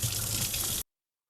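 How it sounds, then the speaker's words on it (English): Tap water gushes steadily over phalaenopsis orchid roots grown in LECA, a close, bright rush that stops abruptly after under a second. "I just want to run it under water first"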